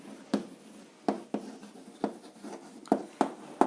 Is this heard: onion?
no